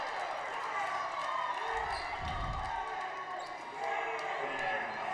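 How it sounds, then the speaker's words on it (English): A basketball crowd in a gym reacts to a foul call during a night game, a broad murmur and rising cheer with ball bounces, heard beneath a commentator's talk. "you can hear the crowd on that one"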